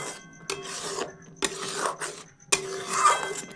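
A spoon scrapes and stirs milk boiling in a pan for sandesh made from powdered milk. Three distinct rasping strokes against the metal pan are each followed by a softer rub, close and clear, with no talking.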